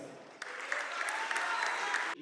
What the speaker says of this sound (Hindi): इन लोगों के लिए तालियां होनी चाहिए।